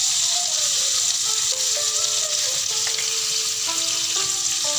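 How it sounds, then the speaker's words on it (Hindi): Prawns sizzle steadily in a hot pan as chili flakes and black pepper go in and get stirred, with a loud, continuous frying hiss close up and faint spoon movements underneath, no talking. "इसको मैं अच्छे से स्टर कर लूँगी।"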